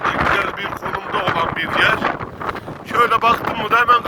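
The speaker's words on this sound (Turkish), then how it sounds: "Bugün çok rüzgar var değerli dostlar." Gusty wind rumbling against the microphone, loud and uneven, with someone talking over it.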